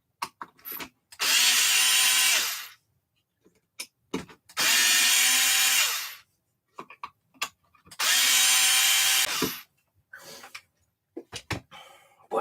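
Three loud, close whirring bursts of a power drill backing screws out of an Arrma 3S V3 brushless RC motor, each lasting about two seconds. Brief clicks and handling taps fill the gaps.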